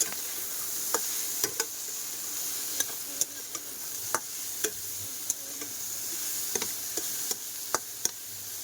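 Okra being sautéed and stirred in a pan, with a steady sizzle and frequent light clicks and scrapes of the stirring utensil against the pan, close and continuous.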